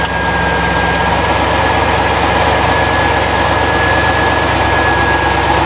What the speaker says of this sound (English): the engine sounds alright